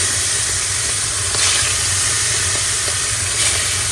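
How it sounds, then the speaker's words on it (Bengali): Small baby hilsa fish frying in hot oil, giving a loud, steady, close sizzle and hiss that continues without a break and with no speech. "বার্মিংহাম থেকে ছোট ছোট বাবু ইলিশ কিনে নিয়ে আসা হয়েছিল সেগুলাই হচ্ছে ভাজবো"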